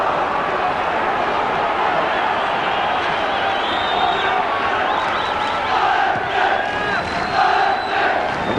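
A large football crowd roars and chants at Windsor Park during a Linfield European Cup tie, a dense, sustained wall of voices with swelling shouts.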